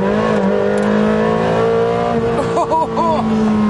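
A Ferrari 360 engine revs hard, climbing in pitch with a couple of quick throttle blips near the end, loud and close.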